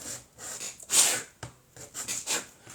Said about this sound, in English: do not sand too much, because you don't want to sand away more than from the piece of wood